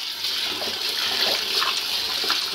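Tap water pours in a steady, close hiss while leafy greens are washed under it, with slight splashing changes throughout and no talking.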